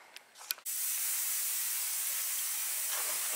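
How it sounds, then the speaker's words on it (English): Ultrasonic cleaner running during a lift rebuild: a few brief handling clicks, then a loud, steady broadband hiss that holds unbroken to the end. "you might hear in the background that I have the ultrasonic cleaner going"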